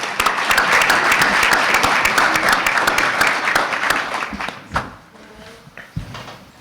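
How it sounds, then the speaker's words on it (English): An audience at a morning business breakfast talk applauds with dense, lively clapping that fades out over several seconds, leaving a few scattered claps. "Let's give him a round of applause."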